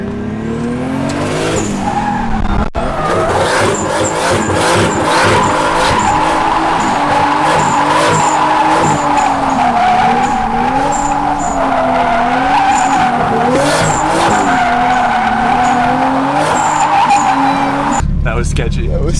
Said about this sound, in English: we're gonna just do donies instead